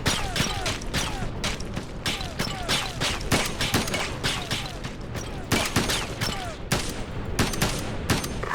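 Sharp bursts of video-game gunfire from Ghost Recon Advanced Warfighter 2 crack repeatedly in quick, irregular volleys, loud and close, with mechanical clatter between shots.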